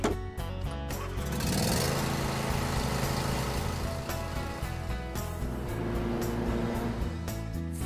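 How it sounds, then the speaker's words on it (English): A tractor engine runs loudly and steadily nearby, a continuous rumbling drone with no pauses. "This is my big-ass tractor."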